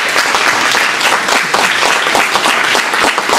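A debate audience applauds the speakers at Imperial College with loud, dense, sustained clapping that fills the room without a break, a continuous wash of many hands.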